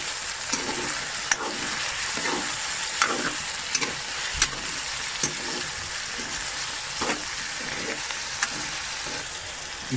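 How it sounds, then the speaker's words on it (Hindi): Chicken sizzling in a pan with browned onions, a steady loud fry with periodic scraping and stirring clatter and no talk. "प्याज हमारे ब्राउन हो गए, अब इसमें चिकन डालते हैं। अभी चिकन को इसमें फ्राई कर लेंगे।"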